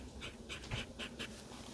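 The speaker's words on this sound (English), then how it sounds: "One of my dogs just whined." A pet dog whines indoors in a short series of faint, high, wavering whimpers, five or so spaced through a quiet room with no talk.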